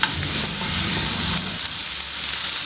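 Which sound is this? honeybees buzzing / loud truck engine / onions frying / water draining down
onions frying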